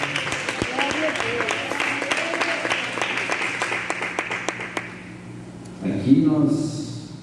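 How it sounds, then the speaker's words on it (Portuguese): A church congregation claps during a worship service, producing dense, sharp hand claps that fill the first five seconds and then fade. A voice speaks near the end. "pode bater palmas, pode dar glória."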